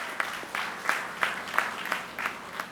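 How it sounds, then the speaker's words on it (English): Applause from a gathered audience at a home ownership celebration in La Horquetta, a modest clapping wash with regularly pulsing accents, as if some hands clap in rhythm. "So give yourself a round of applause that you are here today."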